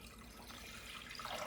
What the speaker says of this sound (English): So I'm gonna make a delicious brine with 4 cups of water. Okay, going in.